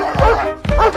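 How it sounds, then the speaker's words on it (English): A dog gives two sharp, loud barks close by, spaced about half a second apart, with nothing else heard. "When he met a dog who dared to bark at him, he got into a fight with the dog on the side of the road."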